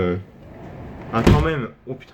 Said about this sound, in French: Oh purée, ma fenêtre avec le vent elle est partie.